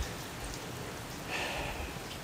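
Heavy rain from Hurricane Ian in Orlando, a steady hiss of downpour with a soft rumbling wash underneath, moderately faint and constant with no voices.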